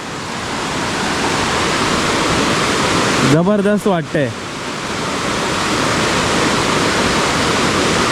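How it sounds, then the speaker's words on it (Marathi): A river in spate, flowing down from Katudi and Shringarpur villages in rural Konkan, rushes and overflows with a loud, steady roar of water throughout. A voice speaks briefly midway over the torrent. "मस्त ओसंडून वाहते बघा नदीला आता मस्त पाणी झालंय"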